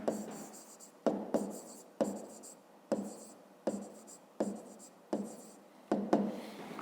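Chalk or marker writing on a board during a fifth-grade math lesson, with about eight sharp repeated strokes in an irregular rhythm, each followed by a scratchy trailing scrape, close and clear with no talk.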